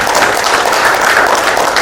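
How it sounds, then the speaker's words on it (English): Audience at a leadership conference session applauds, dense steady clapping filling the whole moment at close range with no voices on top. "Let's give a big round of applause for people who are already here."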